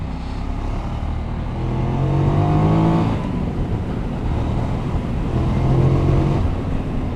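The engine of a QJ Motor SRK900 motorcycle rumbles steadily while riding, a loud low drone that swells slightly in pitch with throttle and carries wind noise.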